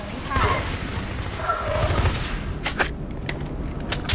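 Gunfire in the video game Section 8, a run of sharp, separate shots in the second half. Earlier, a busy wash of game noise sits under what seems to be a voice.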